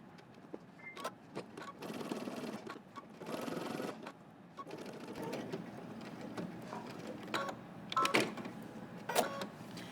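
Sewing machine stitching a jacket welt from mark to mark: intermittent bursts of mechanical whirring and clicking, close and moderately quiet, separated by short pauses of handling.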